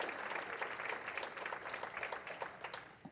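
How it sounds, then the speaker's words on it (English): A luncheon crowd claps steadily, a dense patter of applause that holds at an even level for a few seconds before tapering slightly. "give a round of applause to all our 4 sponsors who helped make this lunch possible today"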